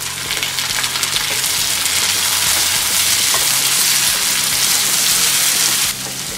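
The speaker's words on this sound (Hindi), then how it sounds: "अब हम इसमें ये टमाटर डालेंगे।" Tomatoes hitting hot oil with fried onion, ginger and garlic in a pan, a loud, continuous, close sizzle with bubbling spatter that eases slightly at the end.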